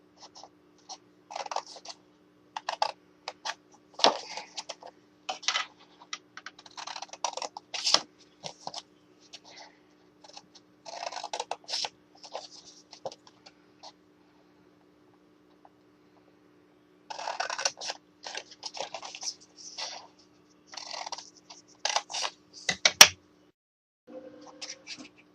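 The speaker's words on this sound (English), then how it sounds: "you're going to cut every one of these score lines up to that middle score line there" Paper being cut along score lines for mini treasure chest crafts: bursts of close, crisp snipping and scraping, with a pause in the middle, over a faint steady hum and no talking.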